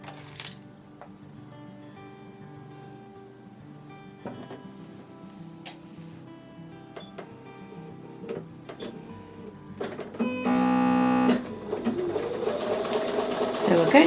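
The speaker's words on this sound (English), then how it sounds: "So I'm going to take those pieces over to the sewing machine now." A sewing machine stitches quilt block fabric pieces in short bursts with a mechanical whir, including one louder sustained stretch near the end, with light handling noises between.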